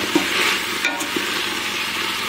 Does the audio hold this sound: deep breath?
no